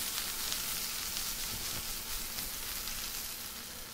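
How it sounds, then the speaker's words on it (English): Garlic and green onions sautéing briefly in a hot pan, a steady close sizzle with faint shuffling from a quick shake, continuous and unbroken for a few seconds. "we're going to go ahead and add our garlics and green onions. Get them. We're going to give them a really quick saute"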